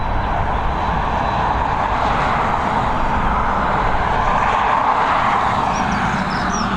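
An Aer Lingus Airbus A320 with odd engine cowlings roars at Dublin Airport, its jet engines a steady, loud, close broadband drone with a slight swell near the end, no talking.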